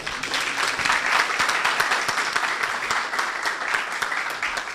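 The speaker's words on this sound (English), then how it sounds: "They seem very happy and therefore they are applauding one more time." A lively audience at a panel discussion session applauds in a dense, continuous burst of many hands clapping close by, steady for several seconds.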